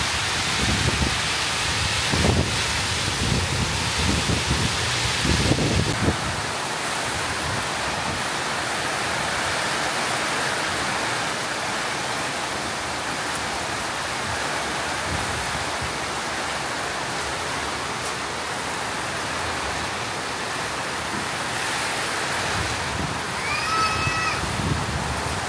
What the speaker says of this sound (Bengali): ব্যাপক বৃষ্টি।